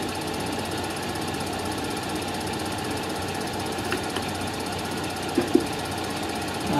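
A toolroom lathe cuts lubricated aluminum with a steady, dense machine drone and rough grinding rattle, continuous and fairly loud, with a couple of brief clicks near the end.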